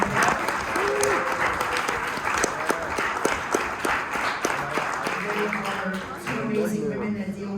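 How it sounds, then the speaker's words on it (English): Banquet audience claps warmly and steadily for several seconds, a full room of hands with a few distinct sharper claps, giving way to voices talking near the end. "So give them a huge round of applause."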